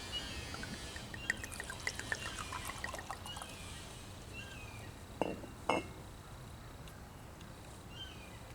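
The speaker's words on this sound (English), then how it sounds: "I'll put it in the Chivas Regal blended Scotch whiskey glass" Teeling Irish whiskey trickles into a Scotch whisky glass with faint liquid dribbles and two brief, clear glass clinks midway. The pouring is quiet and close, with no one talking.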